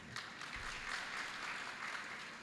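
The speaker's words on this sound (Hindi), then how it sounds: "ताली मत बजाओ रे।" An audience claps together at a religious discourse, a steady broadband patter of many hands sustained at even loudness with no talk over it.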